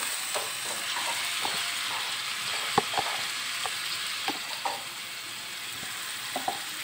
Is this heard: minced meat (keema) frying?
yes